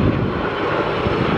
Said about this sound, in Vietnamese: Trước mặt mình là một chiếc Airbus A330 của Qatar Airways.